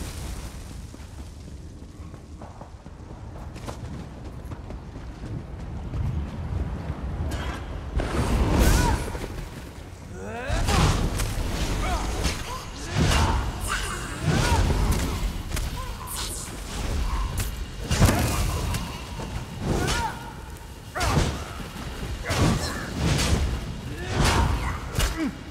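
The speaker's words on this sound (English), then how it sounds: "I set the nest on fire." A nest set ablaze in The Elder Scrolls Online video game: a low, roaring rumble with repeated booming bursts and crackling swells, steady and fairly loud across the whole stretch.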